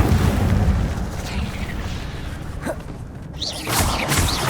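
An Incendio fire spell cast in the video game Hogwarts Legacy erupts as a dense, loud roaring rumble and whoosh of flame that stays full throughout, with brief crackling bursts toward the end.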